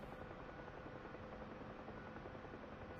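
Combat helicopter in a video game flying with a continuous dense rotor and engine drone, steady and unchanging throughout, with no voices.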